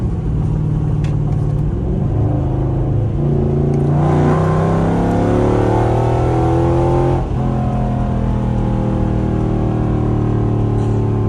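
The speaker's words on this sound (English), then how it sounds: "I'm gonna let y'all hear the car." A Dodge Charger R/T with longtube headers revs loudly up close, its engine rumbling and climbing in pitch, dropping back, then rising again in a second hard pull.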